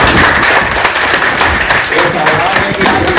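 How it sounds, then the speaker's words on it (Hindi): Applause fills a railway DRM office farewell party, with a crowd clapping steadily and loudly for several seconds and voices murmuring underneath. "भाई तालियां बजनी चाहिए।"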